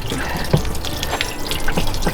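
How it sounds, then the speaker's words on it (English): Household water filtration system switched back on, water rushing steadily through a faucet with a few brief clunks and drips, close and fairly loud. "Turn the water on."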